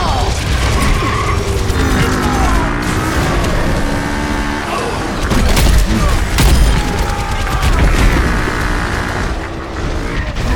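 Video game combat bursts with a grenade blast and rapid gunfire, loud and close, with crashes and booms layered over continuous battle noise throughout.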